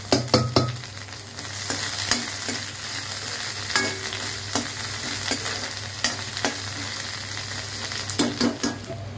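Asafoetida and grated ginger sizzle in hot tempering oil with dried chilli, cumin and bay leaf, a steady loud frying hiss punctuated by sharp clicks of stirring.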